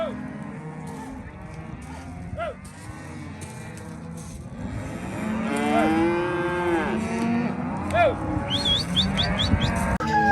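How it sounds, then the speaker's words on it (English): Cattle on a ranch moo repeatedly as they are brought in, several overlapping calls near and far, with birds chirping faintly in the background. "we got to bring all these cows in"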